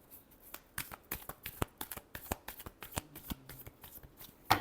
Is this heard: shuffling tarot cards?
yes